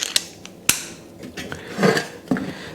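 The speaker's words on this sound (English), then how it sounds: "I can put the handle back on for a little more torque." A small ratcheting screwdriver works screws on a bathroom exhaust fan, giving a few sharp close clicks and short ratchet bursts spaced irregularly, with no talk.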